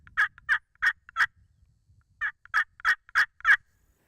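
A turkey hen yelps in two runs of evenly spaced, raspy notes, four then five, loud and close with a short pause between runs.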